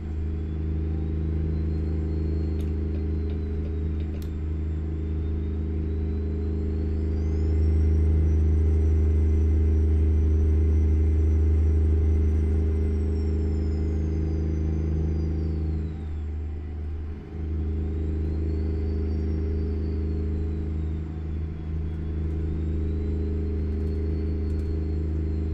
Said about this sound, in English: This truck drives pretty nice.